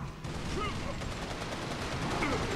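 Sustained gunfire rattles through a firefight in Resistance 2, dense and continuous at steady loudness, with faint voices in the background.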